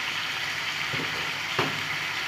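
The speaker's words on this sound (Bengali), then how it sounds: "সব মশলা দেওয়া হয়ে গেছে, এখন আমি কষাতে থাকবো।" Chicken with spices and salt sizzles steadily in a pan as it is sautéed for a Bengali chicken kasha, a continuous close hiss with a couple of soft knocks.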